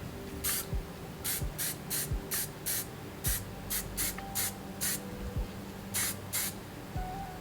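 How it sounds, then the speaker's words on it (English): Short bursts of aerosol hairspray hiss in a quick irregular series as it mists pottery, about a dozen light puffs close by, with faint thumps between them. "So I just use a fine aerosol spray."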